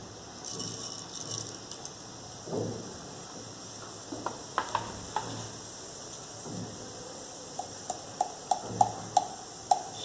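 Mustard seeds and cumin in hot oil for rava upma: faint steady sizzling with scattered crackles, then a run of sharp little pops from the seeds near the end, all close and fairly quiet.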